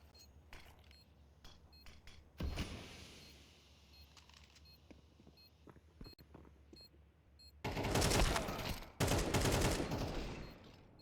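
Gunfire rings out during a competitive Counter-Strike match, with scattered single shots and short bursts of varying loudness, including Desert Eagle fire, and a dense volley near the end.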